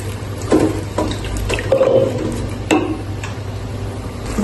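Water poured in small amounts into a cooking pot of prawns with ground spice paste, giving a few short splashy bursts over a steady low kitchen hum, close and moderately loud.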